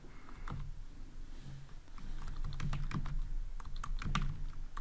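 Code being typed on a computer keyboard, a steady run of quick close key clicks with small pauses and bursts, nothing else in the room.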